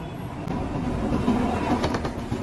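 A train rumbles past the Pasrur Road level crossing in Gujranwala, Pakistan, bound for Rawalpindi, its wheels clattering in a steady, rolling stream of rhythmic clacks that stays close and fairly loud throughout.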